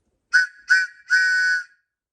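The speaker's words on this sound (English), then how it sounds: "Always good to have a whistle nearby in case you need to make some noise." A whistle sounds in a workshop as two short shrill blasts followed by one longer held blast, close and clear against silence.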